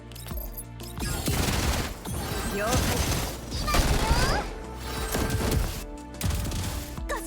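Attacks land in Girls' Frontline 2 with bursts of rapid gunfire and impact crashes, several volleys in quick succession separated by short gaps, while someone talks over the game action.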